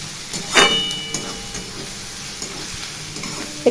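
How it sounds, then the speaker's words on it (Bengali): Garlic and onions fry in hot oil in a home kitchen, a soft steady sizzle broken by a few sharp scraping stirs of a spoon against the pan, close and moderately loud with no talk. "তেল গরম হয়ে গেছিল, প্রথমে দিয়ে দিয়েছি রসুনগুলো"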